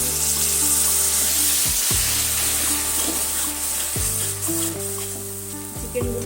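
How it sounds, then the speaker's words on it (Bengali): Spice paste sautéing in oil for a Bengali-style lemon chicken roast, producing loud, continuous sizzling and spitting oil close up, with a low hum running underneath. "মশলাটা আস্তে আস্তে এটা কষুক। হয়ে গেছে, আস্তে আস্তে দেখুন তেল বেরিয়ে গেছে।"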